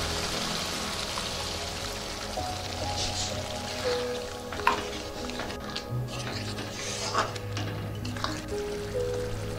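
Bowl-rinse water poured into sizzling spice paste with turmeric in a pan for rohu fish curry, a steady watery hiss and patter with a few small bubbling pops and clinks, fairly close and without talk.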